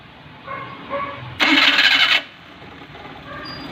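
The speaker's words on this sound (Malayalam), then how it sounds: "ഓഫ് ചെയ്ത് ഒന്നുകൂടെ സ്റ്റാർട്ട് ചെയ്തേ" A Maruti 800 car engine cranks and catches, with a loud burst of starter and engine noise lasting under a second, then settles into a low hum. Faint voices come before it.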